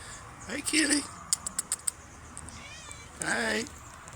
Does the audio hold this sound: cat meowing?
yes